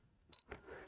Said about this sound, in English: you might hear that beep sound